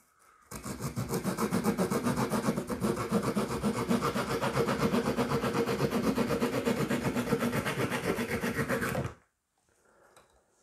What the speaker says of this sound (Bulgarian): От същата страна има и трион стънък профил, да видим как реже.